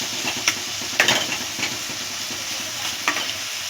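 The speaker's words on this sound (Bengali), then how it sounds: "বাঁধাকপিটা ভালো করে 5 মিনিট ভেজে নিচ্ছি।" Shredded cabbage fries in a wok (kadai) for homemade chow mein, a steady close sizzle broken by a few sharp stirring scrapes of the spatula, with no voices.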